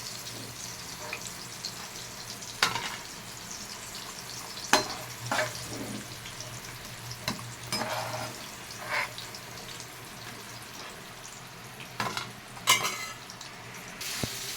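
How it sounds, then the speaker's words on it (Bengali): Potatoes fry in hot oil in a pan, giving a continuous soft sizzle with occasional sharp clatters and scrapes as they are stirred and turned. "আলুগুলোকে আগে ভেজে নিচ্ছি।"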